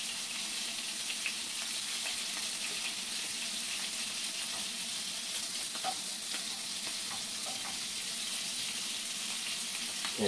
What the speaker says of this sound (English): the larger side is the one that we are searing in hot oil